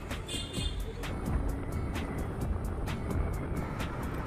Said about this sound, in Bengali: এখন এই বাইকে চড়ে আমি আমার বাড়ির উদ্দেশ্যে রওনা দিলাম